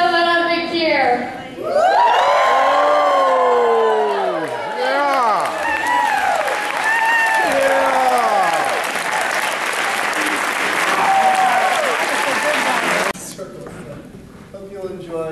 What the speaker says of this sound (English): Let out a big cheer.